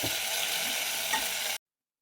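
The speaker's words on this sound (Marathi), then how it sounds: "आता हा मिक्सरमधून काढलेला मसाला टाकून घेते तेलामध्ये" Ground masala paste from a mixer sizzles and hisses in hot oil for a spicy mutton curry, a loud continuous frying sound that cuts off abruptly into silence.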